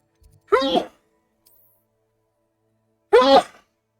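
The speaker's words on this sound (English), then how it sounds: "Oh, sorry, I had to sneeze." Two short, sharp sneezes burst out close to the microphone, a couple of seconds apart, with near silence between them.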